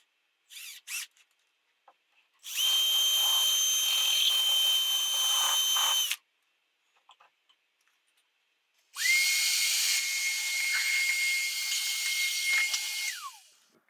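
A power driver drives screws into an original wooden carpenter's toolbox under restoration, two separate bursts of high whirring, each a few seconds long, close and loud, with quiet handling clicks between them.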